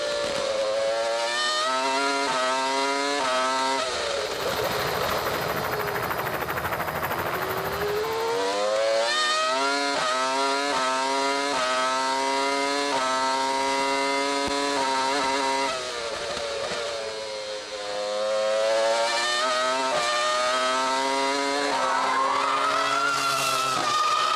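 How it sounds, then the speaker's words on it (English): Williams BMW Formula 1 car from the 2001 season lapping Imola with Ralf Schumacher, a loud high-revving V10 howl climbing through rapid upshifts, dropping on braking and downshifts, then screaming up again onboard, without speech. "Enjoy the sound of the Williams BMW engine."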